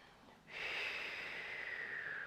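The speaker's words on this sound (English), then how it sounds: "Starting to find that breathing pattern in through the nose, out through the mouth." A single long breath during a yoga and meditation session starts abruptly after a quiet moment, a close, airy rush that holds steady and slowly fades.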